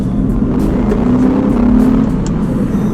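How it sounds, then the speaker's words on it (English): A Nissan 370Z engine drones loud and close as it is driven in manual mode with paddle shifting, its pitch rising and settling through a steady rev. "Just gotta switch into manual mode like this. Bam, now I'm shifting with the paddles."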